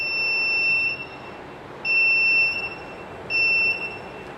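Buzzer on a DIY infrared object sensor kit sounding as a hand comes near the sensor, three steady high-pitched electronic beeps of about a second each with short pauses between them, clear and close.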